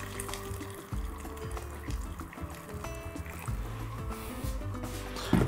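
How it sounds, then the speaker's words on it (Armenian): About a litre of boiled water is poured into a pot of borscht broth, a continuous close gurgling splash with a faint rolling rumble, no voices. "Արգանակի ջուրը քիչ է, ավելացնում ենք եռացրած ջուր, մոտ 1 լիտր"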